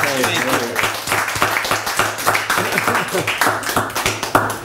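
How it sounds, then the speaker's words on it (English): Audience clapping at a Toastmasters club meeting, uneven and patchy with distinct individual claps, while a voice talks over it close by. "let's give Richard a big round of applause."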